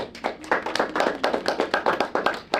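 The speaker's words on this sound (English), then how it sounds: "Golf clap." A short burst of light, polite golf clapping at a comedy club: several soft, rapid claps in a steady patter, close by and fading after a couple of seconds.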